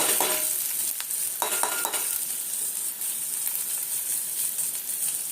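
Onions added to a pan with green chili, ginger and garlic fry with a steady soft sizzle, a few clattering stirs near the start, then an even, moderately quiet hiss with no one talking.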